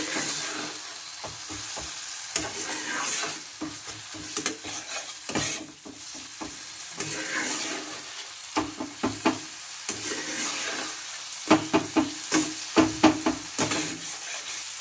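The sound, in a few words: stirring egg masala with chillies and salt in a frying pan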